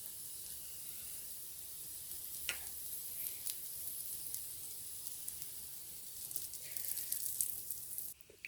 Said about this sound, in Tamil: இதில் நம்ம மிக்ஸ் பண்ணி வச்சுருக்க அந்த எக்கை சேர்த்துடலாம்.